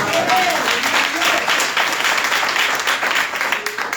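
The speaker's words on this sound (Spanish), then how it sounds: "Dale un aplauso al Señor." A congregation applauding during a church service, loud continuous clapping from many hands with some voices mixed in under it.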